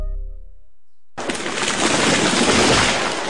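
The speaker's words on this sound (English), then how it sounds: "That was the sound of a tree falling." After a brief moment of quiet, a falling tree crashes loudly and suddenly, erupting into a dense, roaring burst of noise that keeps going for a couple of seconds.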